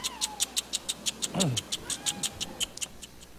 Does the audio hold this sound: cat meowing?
yes